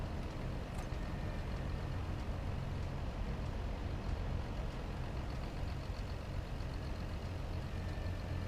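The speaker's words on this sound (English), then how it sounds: "That engine sounds really good" A heavy racing truck engine in a truck racing video game roars steadily throughout, a dense continuous rumble with no pauses, loud and close.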